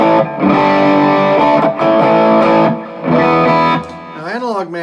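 Electric guitar played through an Analogman Prince of Tone overdrive pedal set to its distortion mode, loud sustained distorted chords ringing in several strums with short gaps, ending in a wavering bent note.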